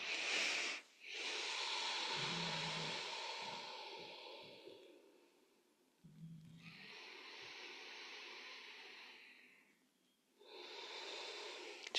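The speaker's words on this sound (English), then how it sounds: "Just gently breathing with conscious connection to the inhale and the exhale." Gentle, conscious breathing during a breath meditation: three long, soft, airy breaths, each a slow inhale or exhale separated by quiet pauses, close and unaccompanied by speech.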